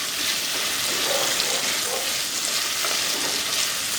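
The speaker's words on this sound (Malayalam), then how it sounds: "ഇപ്പോൾ നമ്മുടെ പച്ചമുളക് ഉള്ളിയൊക്കെ വഴന്ന് വന്നിട്ടുണ്ട് നമുക്ക് ഇനി തക്കാളിയും കൂടെ ഇട്ട് കൊടുക്കാം" Tomatoes frying in a pan with softened onions and green chillies for a Kerala-style vaala fish curry give off a steady, close hiss of sizzling oil. The hiss runs unbroken with faint stirring and no talk.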